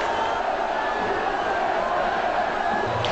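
CRB fans in a stadium celebrating a goal, a dense, distant wash of crowd cheering and chanting that stays level and steady throughout.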